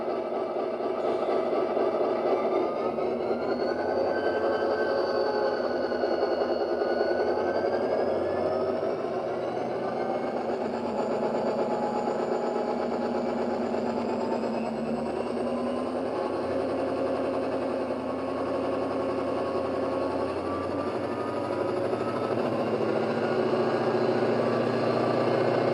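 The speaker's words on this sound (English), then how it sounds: "It is obviously an EMD 645 16-cylinder engine, same as in the SD40s and SD45s." A Dapol class 59 model locomotive sound decoder plays an EMD 645 16-cylinder diesel engine, a continuous, steady droning rumble with slowly shifting whining tones, moderately loud and alone.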